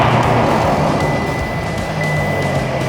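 Corvette ZR1 with its stock, fairly subdued exhaust, a steady low rumble idling or running for a few seconds without any sharp revs.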